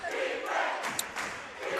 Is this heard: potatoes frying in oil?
no